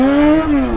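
A Yamaha XJ6 motorcycle with a straight-pipe exhaust revs loud and close, its deep, steady engine drone rising slightly and then easing off.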